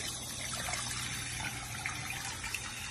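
Hot tap water runs steadily for hand washing, a dense, even rushing hiss with no pauses and no voices.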